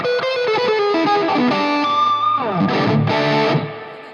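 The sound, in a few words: electric guitar played with added reverb effect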